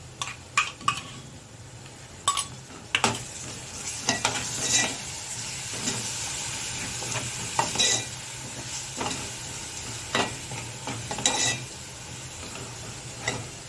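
Ginger, garlic, green chilli and coriander paste fries with chicken in a pan, sizzling steadily while a spoon scrapes and stirs in repeated clattering strokes.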